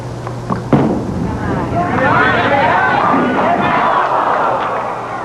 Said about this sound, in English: Crowd appreciates it.